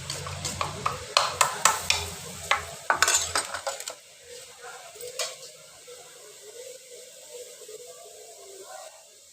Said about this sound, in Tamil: கொஞ்சம் திக்காக கரைச்சிக்கங்க தோசை மாவு பார்த்து.